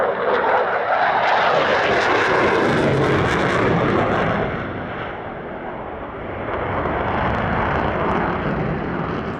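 A jet aircraft roars past at the Australian International Airshow, a loud, broad rushing engine noise that dips briefly and then swells again, with no talking.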